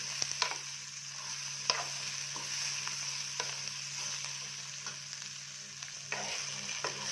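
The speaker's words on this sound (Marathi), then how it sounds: "कांदा आपल्याला थोडंसं परतून घ्यायचं." Chopped onion sautéing in a pan for chole bhature gives off a steady, gentle sizzle at moderate volume, broken by a few scattered clicks as it is stirred, with no voices.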